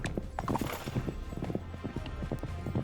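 Horse hooves clip-clop in a rapid, continuous patter in the video game Citadelum, with game sounds layered underneath throughout the short stretch.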